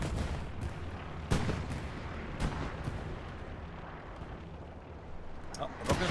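Hell Let Loose battle: a rocket blast lands with a heavy boom amid repeated distant artillery and gunfire thuds over a rumbling battlefield background, with a player talking faintly underneath.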